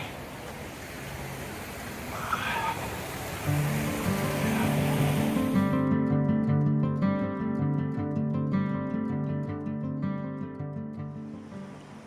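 Fast-moving creek water rushing over rocks at a trail crossing in Henry Coe State Park, a steady broadband wash that shifts partway through as engine-like tonal hum from the recording overlaps it, no talking.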